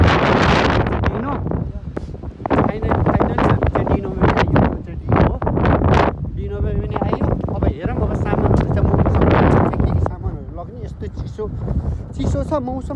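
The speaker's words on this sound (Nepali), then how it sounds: "चिसो छ मौसम हावाहरू बुरबुर बुरबुर चलिरहेको छ" Cold-weather wind gusting and buffeting against the microphone throughout, with a voice talking over it.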